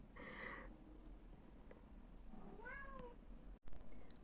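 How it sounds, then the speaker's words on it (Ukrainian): A domestic cat meows twice indoors, a short cry followed by a longer rising and falling one a couple of seconds later, both fairly faint over quiet room tone with no speech. "мій кіт кричить"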